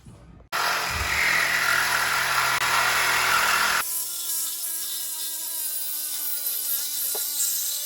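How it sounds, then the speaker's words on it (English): A saw cutting off the muffler of a BMW E46, loud and close with a harsh, rasping roar, then a sudden drop to a quieter, tonal whine and hum that continues to the end. "all right, so first mod, we're cutting the muffler off."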